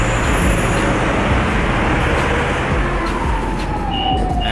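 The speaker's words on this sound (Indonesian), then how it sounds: "Kotanya cukup padat dan ramai, lalu lintasnya padat tapi tertib." Dense city traffic in Istanbul roars in a continuous wash of engines and road noise, with a faint siren wailing in the background.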